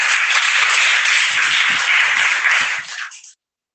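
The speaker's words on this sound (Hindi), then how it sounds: "इसलिए आप अपने लिए एक बार ताली बजा सकते हैं।" Students and audience at a school program applaud, a dense, loud burst of many hands clapping together for about three seconds before it stops abruptly.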